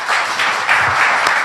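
An audience applauds at a debate in Chiloé, a short, dense spread of many hands clapping at once, steady and fairly loud throughout.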